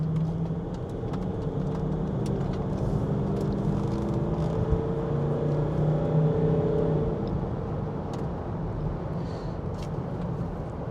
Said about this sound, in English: Giving it the beans a bit, just to get some air through its lungs, get the turbos spinning up